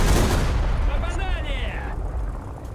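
An SPAA anti-aircraft gun on a Russian premium ground vehicle firing in a video game, a heavy blast with a rumbling tail and a faint falling whine fading away.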